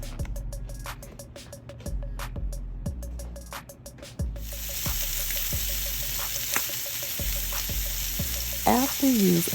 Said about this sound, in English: After you've seasoned the tenderloin, sear it in a pan with a little oil.